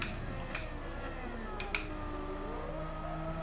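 Race car engine in the Gran Turismo 7 video game, a steady broadband drone with shifting harmonic tones as revs rise and fall, continuous and fairly loud, with a couple of short clicks near the start and middle.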